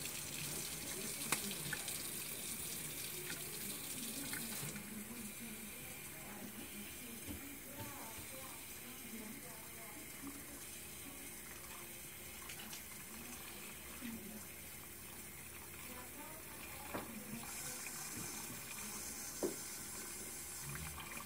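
A tap runs lukewarm water steadily to fill an enema bag, a continuous rushing flow lasting throughout at low level.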